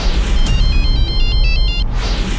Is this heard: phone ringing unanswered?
yes